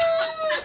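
Young poultry chicks, ducklings and turkey poults kept with a brooding hen, calling in shrill, high peeps for greens, close and loud in one short burst with no talk.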